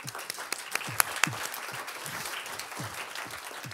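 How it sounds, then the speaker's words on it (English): Audience applause at the Stockholm Sustainability Summit, a room of people clapping with distinct individual claps standing out near the start, then settling into a steady, moderately loud patter with no speech over it. "A warm welcome to you and a warm round of applause, please"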